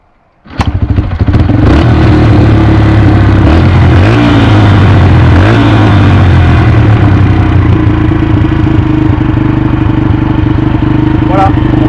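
A 125cc four-stroke engine with a freshly cleaned and reassembled carburetor fires up after a brief silence and runs loudly and steadily close by, a throbbing idle with slight revs and mechanical clatter.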